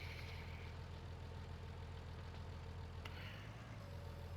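Tractor engine idling in Farming Simulator, a steady low mechanical drone with a faint higher whine, running alone and unbroken.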